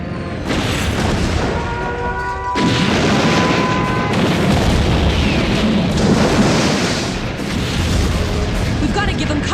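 Artillery batteries fire in an animated sci-fi battle from the cartoon Exosquad, producing loud, dense booms and explosions that rumble almost continuously, with sharp blasts punctuating the roar.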